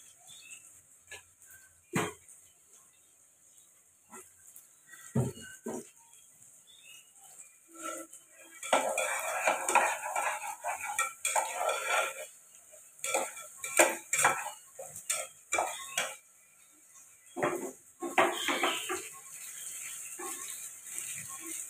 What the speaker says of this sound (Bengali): পেঁয়াজটা আমি ভাজি ভালোভাবে।